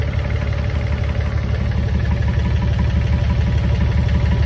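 A Volvo Penta MD2030 three-cylinder diesel boat engine on an Oceanis 351 sailboat idles at low revs, a loud steady throbbing chug with a vibrating rhythmic pulse and no voices.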